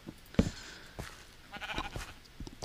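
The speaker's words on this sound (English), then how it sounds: "All these sheep." Sheep in the Minecraft video game bleat in several short calls, with a brief click near the start, fairly clear over a quiet background.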